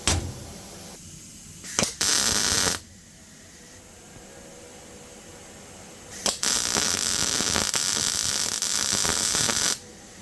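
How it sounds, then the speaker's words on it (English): A small metal rose being fabricated is spot-welded in two crackling, hissing bursts: a short one near the start and a longer one of about three and a half seconds later. Quiet pauses separate them, with a sharp click before each. "So let's go ahead and weld this little spot here"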